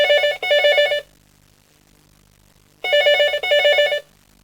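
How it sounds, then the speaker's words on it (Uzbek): A landline telephone rings in a guest room in two loud, electronic bursts of double trills, separated by a quiet pause of about two seconds, with no voices. "Mehmonxonada telefonning tuyuqsiz sayrishi bilan oshxonada tamoqqa tayyorlik qilayotgan Mehrigulni cho'chitib etdi."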